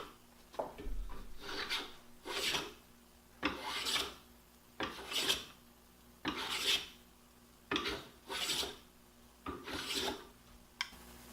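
Repeated rasping strokes of a hand plane shaving tapered wooden table legs, eight or so even passes with short pauses between, close and fairly loud, no voices.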